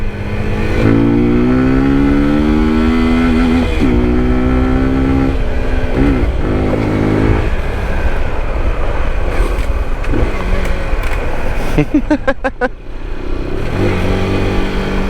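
A scooter engine drones steadily along a scenic road, loud and close, with its pitch rising and falling as the rider works the throttle. Near the end a burst of revving and wind roar briefly breaks the steady note.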